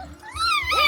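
Small dogs fighting in a cave area in Nepal, close, loud whining and wailing yelps rising in pitch over about a second, with low rumbling beneath and no speech.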